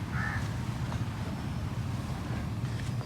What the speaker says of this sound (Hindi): परिंदों की आवाज़ें भी आती हैं।